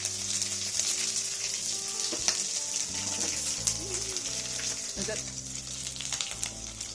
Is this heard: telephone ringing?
no